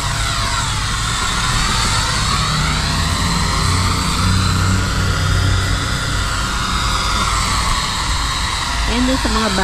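A cheap consumer drone flies close by with a loud, steady propeller whine and buzz whose pitch wavers as it maneuvers, and a voice speaks briefly underneath.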